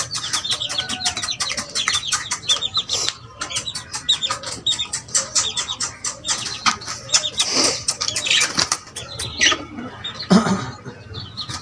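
A pigeon flaps its wings in quick bursts close by, with chirpy bird calls and soft cooing throughout.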